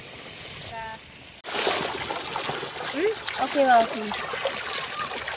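About half a litre of water goes into a cooking pot holding ground masala paste of coconut, cinnamon, cloves, cardamom, cumin and fennel, with a sudden splash then a sloshing trickle as people talk close by.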